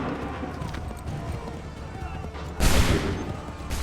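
Musket volley fire in the video game Assassin's Creed III, a dense burst of massed gunfire cracking near the end over a background of battlefield clatter and shouted voices.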